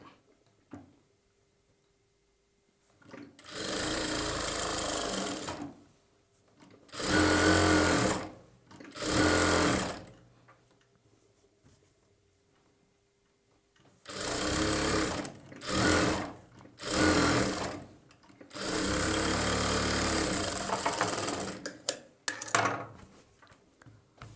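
A sewing machine stitches blouse lining onto the main fabric in several bursts of rapid mechanical whirring, separated by short silent pauses, close and clear with no talking.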